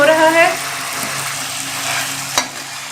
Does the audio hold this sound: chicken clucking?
no